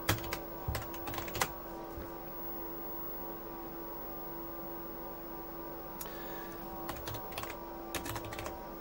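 Typing on the keyboard of a Quantel Paintbox engineer's console, with close keystroke clicks in short bursts at the start and again near the end over a steady electronic hum.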